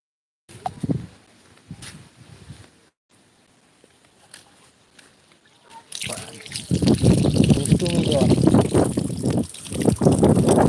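Water trickles down in faint, scattered drips at first, then becomes a louder, steady splashing flow that continues to the end, with some indistinct voice sounds mixed in.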